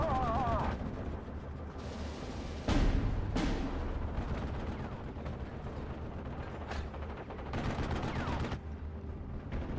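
Machine-gun strafing in a war video game, with bursts of rapid gunfire, sharp cracks and mechanical clatter layered over a busy battle background.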